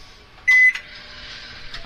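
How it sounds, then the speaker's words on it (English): A microwave oven melting half a stick of butter under a covering plate gives a short electronic beep, then settles into a steady, even running hum that continues close by. "We're going to melt a half stick of butter. Let's put a plate over it. We don't want to get"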